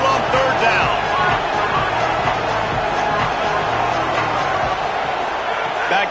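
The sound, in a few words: home crowd cheering at a college football game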